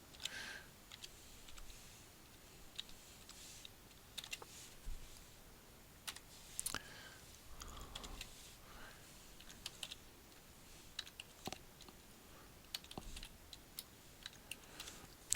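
Steady, quiet typing on a computer keyboard, with irregular bursts of key clicks and a few sharper taps, close by, with no talking.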